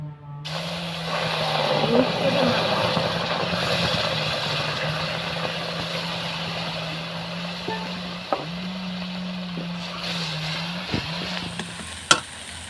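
Prepared spice paste for rohu fish kalia sizzles steadily in a pan throughout, with a constant low hum beneath and a few sharp clinks of stirring near the end.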